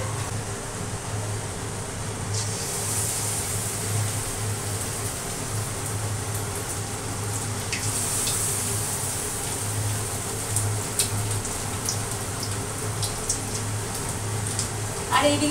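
Onion, garlic, ginger and capsicum sizzle in hot oil with a steady, even hiss and crackle that runs throughout, with a low hum underneath and a few brief clinks near the end.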